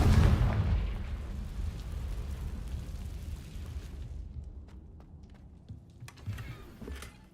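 A Confringo fire spell in Hogwarts Legacy: a heavy rumbling explosion that booms at the start and then trails off into a long fading roar, with small clicks near the end.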